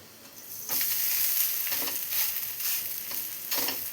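Semolina and coconut dosa sizzles and crackles in a hot pan, a close, steady frying hiss with brief louder bursts as it is stirred or moved.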